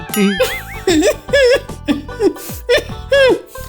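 A cartoon character coughs repeatedly in short, rasping bursts, a voiced, rhythmic series of hacks that is close and loud, with a wheezy, laugh-like quality.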